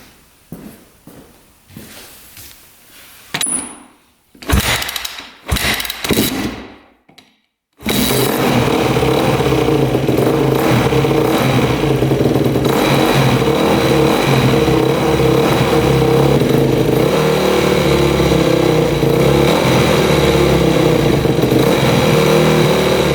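A racing dirt bike engine is kicked over, then catches and settles into a loud, steady idle that runs continuously. Scuffs and footsteps come before the start, with no talk.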